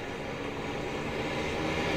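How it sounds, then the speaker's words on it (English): An airplane engine roars in a broad, steady rumble at a remote northern airstrip, sustained and fairly loud throughout, growing slightly louder toward the end, with no talking. "Waiting for that engine number two."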